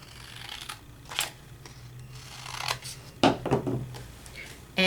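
Gold paper being cut with scissors for a die-cut sticker craft project, heard as a few short crisp snips and rustles close by, with paper handling between cuts.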